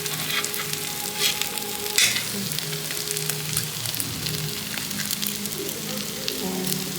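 Food simmering and gently sizzling over low heat at a glamping site, with a soft continuous crackle, occasional clinks of utensils and quiet background sounds.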